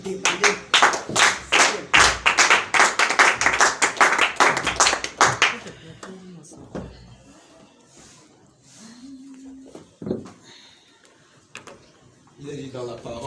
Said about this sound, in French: je souhaiterais que nous puissions l'acclamer pour l'encourager afin qu'il vienne